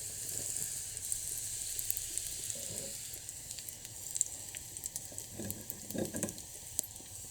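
Cumin seeds, hing and raw turmeric sizzle in hot ghee with a steady close crackle and hiss, and sharper pops and spits burst out now and then, with no talking.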